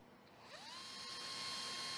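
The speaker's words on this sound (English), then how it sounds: "The holes are carefully drilled in both the sealant and the rear of the spacer in a single step using a special step drill." A special step drill bores holes through hardened window sealant and into the rear of a SWISSPACER AIR spacer, a steady high-pitched whine that rises in pitch and grows louder as the bit spins up and cuts.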